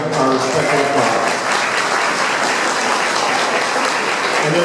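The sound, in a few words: audience applause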